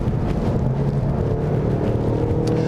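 Steady engine drone and road rumble from inside a moving 2015 Mustang EcoBoost, a low humming tone holding constant throughout.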